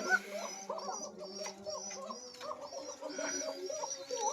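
Farm-kept running pigeons, vaccinated breeding stock in a coop, coo repeatedly in soft overlapping calls at moderate distance, with faint chirps and a distant dog mixed in.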